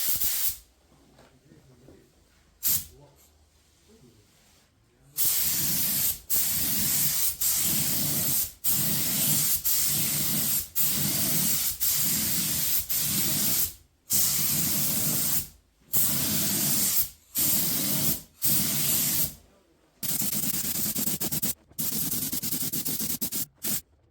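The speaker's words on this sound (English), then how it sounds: "I'm using my N-Tool 602 mini spray gun with a 1mm needle." Repeated bursts of an N-Tool 602 mini spray gun with a 1mm needle hissing out clear coat onto a wheel rim, each lasting a second or two with short pauses between, close and loud.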